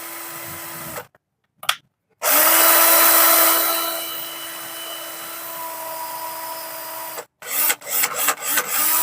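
A repaired cordless drill spins up after a couple of short trigger blips and then runs continuously with a steady high whine for several seconds before stopping and giving a few quick pulses.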